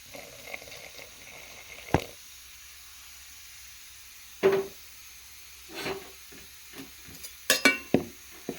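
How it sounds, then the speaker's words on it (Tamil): Intermittent scraping and knocking of a spoon stirring a thick mixture, a few isolated strokes then a quicker cluster near the end, over faint hiss. "இந்த மாதிரி ஸ்பூனில் போட்டு நல்லா கலந்துக்கலாம்"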